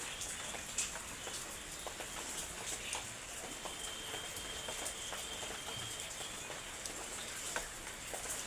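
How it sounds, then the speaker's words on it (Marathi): Steady rain falls on an open vegetable field where brinjal seedlings are being transplanted, a dense, even patter with scattered sharper drop ticks running throughout, moderately faint and without voices. "पाऊस चालूच आहे."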